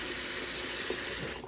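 Tap water runs steadily into a kitchen sink as vegetables are washed, a continuous close hiss and splash with no speech that eases off only in the last moment.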